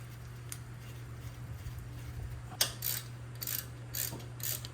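A ratchet threads a brake bolt on a 2018 Jeep JLU during a brake pad and rotor change, giving a few short clicking bursts over a low steady hum.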